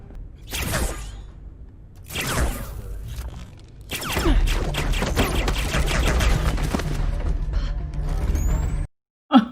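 Bursts of rapid gunfire and mechanical clatter from a televised blind-firing shooting contest, coming in short separate volleys and then a longer sustained barrage before a sudden cutoff.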